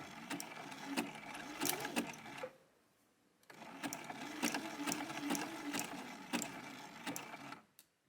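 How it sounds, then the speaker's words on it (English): Sewing machine stitching around the hem of a knit shirt with a universal needle, a close, steady whirring run that pauses for about a second, then resumes and stops, with no voices. "I'm just using a universal needle as I sew"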